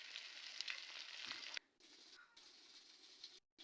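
Chicken pieces coated in turmeric, chili and salt frying in hot oil, a steady bright sizzle with brief gaps where it cuts out, fairly quiet and close, no talking.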